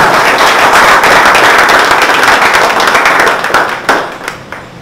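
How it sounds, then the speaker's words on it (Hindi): Loud, dense clapping from a class of students at a farewell gathering honouring a teacher, strong and sustained before thinning into a few scattered claps at the end. "तो फिरोज सर के लिए सबसे पहले बात जोरदार ताली"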